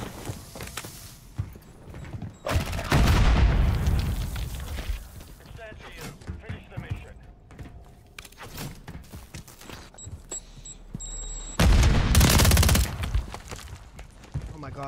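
Rapid bursts of machine pistol fire in a first-person shooter's ranked match, loud clusters around three and twelve seconds over busy game effects and footsteps, with a player talking throughout.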